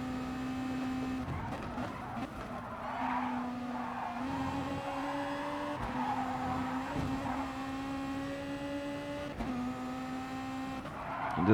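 A race car in Gran Turismo Sport laps a mountain circuit, its engine whining steadily and climbing through gear changes, with tyres squealing through corners, loud and continuous throughout.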